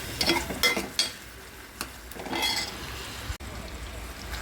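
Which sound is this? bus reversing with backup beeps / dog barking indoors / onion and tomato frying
onion and tomato frying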